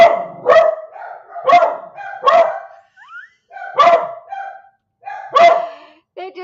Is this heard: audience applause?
no